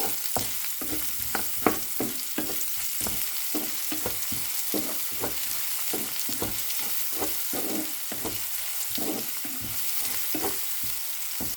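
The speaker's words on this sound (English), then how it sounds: "On same pan, let's saute the garlic and onion on same time" Garlic and onion sauté together in a pan, a bright continuous sizzle broken by regular scraping strokes of a spatula, close and steady with no talking.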